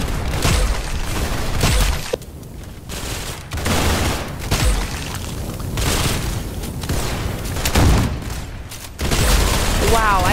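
Rapid bursts of gunfire from the Roblox shooter game Arsenal, loud and dense with booming shots, mixed with a player talking excitedly over the action.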